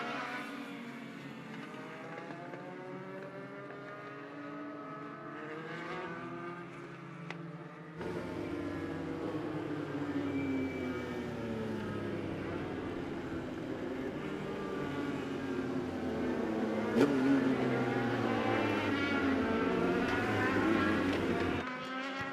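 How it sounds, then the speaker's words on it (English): Legends race cars lapping Charlotte Motor Speedway during the Summer Shootout, heard as a continuous engine drone that rises and falls as the cars circle, with overlapping passes and pitch sweeps, loud and steady. "87C machine from Hampstead, North Carolina, is Dominic Chisholm out there getting laps around the Speedway."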